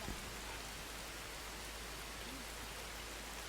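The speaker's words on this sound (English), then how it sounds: "Rain before the winter." Steady rain in the prehistoric survival game Dawn of Man, a soft continuous hiss of falling drops on the surface with no other sounds breaking through.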